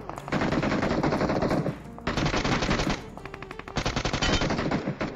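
Gunfire in the battle-royale game PUBG at Pochinki: three long bursts of rapid automatic fire, loud and close, separated by short pauses, with no voices.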